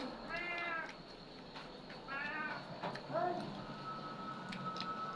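A cat meows three times in drawn-out calls spaced about a second apart, fairly close in a quiet indoor room.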